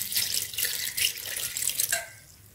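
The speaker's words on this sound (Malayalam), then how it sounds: "ഈ ഇറച്ചി ഒന്ന് വേവാൻ വേണ്ടി കുറച്ച് വെള്ളം ചേർത്ത് കൊടുത്തിട്ട്" Water is poured into raw beef for pickle, a steady splashing pour lasting about two seconds before it trails off, close and alone.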